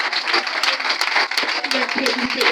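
A church congregation at a Sunday service applauds and claps, a dense, lively crowd sound with voices calling out over it throughout.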